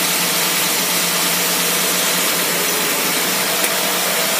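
A Predator small engine on a dyno settles into a smooth, steady idle with its carburetor running, a continuous close, even hum with no talk over it.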